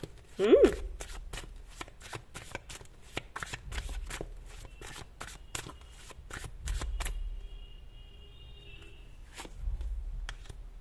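Tarot cards shuffled and drawn by hand, a rapid series of crisp riffling flicks close up through most of the stretch, then quieter card handling, with faint talk in the background.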